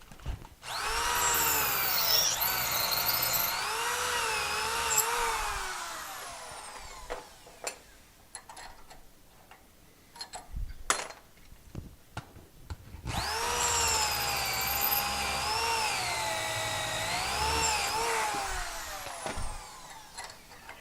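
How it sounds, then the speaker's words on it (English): A power drill runs a reamer through a hole in metal for BMW 2002 engine mounts in a workshop, with two long whining passes separated by a pause filled with clanks and handling noise. "I'm really reaming it."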